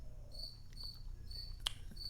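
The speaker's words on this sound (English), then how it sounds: "hey, shut up, crickets." Crickets chirping in steady repeated bursts, fairly faint and close, over a low rumbling background with no talk.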